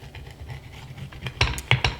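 A knife cuts a turkey pepperoni pizza in half, with soft scraping strokes leading into a few sharp, close clicks and taps of the blade against a plate or pan.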